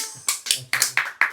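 A handful of sharp hand claps ring out for a contestant, five separate smacks at uneven spacing over a bit more than a second, close and fairly loud, with a faint low murmur between them.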